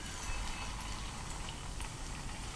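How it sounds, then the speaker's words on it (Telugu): Cheese paneer balls deep frying in hot oil give a dense, steady bubbling sizzle that fills the short stretch, close and fairly loud, with no voices. "ఇప్పుడు సో డీప్ ఫ్రై చేద్దామా?"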